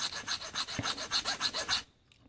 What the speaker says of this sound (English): I left this one purely just so I can bore the hell out of you and show you how to file